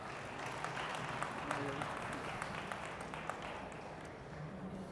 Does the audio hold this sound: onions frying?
no